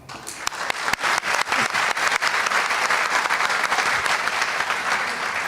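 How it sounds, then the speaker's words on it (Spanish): A room full of people applauds, dense clapping swelling quickly and holding steady and loud throughout. "Un aplauso para el hermano."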